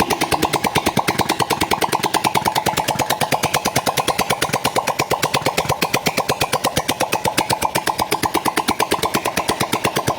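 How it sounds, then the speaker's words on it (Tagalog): A Honda RS125 motorcycle, converted from fuel injection to a carburetor, runs at a steady idle with rapid, even firing pulses. The loud, close exhaust beat continues unbroken throughout with no talking. "So dito guys, andar na yung motor."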